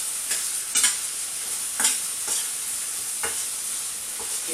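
Chicken and bacon pieces sizzle steadily in a hot pan while a utensil scrapes and stirs them in several brisk, irregular strokes, close and clear with no talking.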